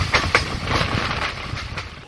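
The Kanchankanya Express passenger train rolls along in steady rumble with rhythmic clicks and knocks from the wheels, heard close from inside, with a voice speaking over it.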